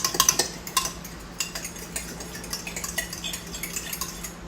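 A fork whisks liquid batter ingredients in a bowl, producing a steady run of quick, close metallic clinks and taps against the dish, with no voices.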